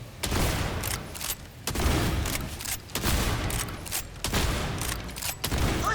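Rapid bursts of gunfire in Borderlands blast at jammer nodes, several loud rattling volleys separated by brief pauses, close and dominant with no talking.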